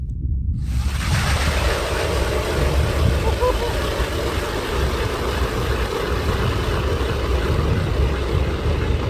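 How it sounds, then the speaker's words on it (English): Ion R1 electric ice auger boring down through lake ice outdoors, a steady loud motor and cutting roar running continuously after a brief quiet start, with wind buffeting the microphone. "Let's see what this Ion R1 can do on ice, electric auger."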